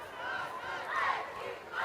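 Cheerleaders chant at a high school football game, a steady crowd-like roar of massed voices heard fairly distant and continuous, swelling slightly midway and again at the end.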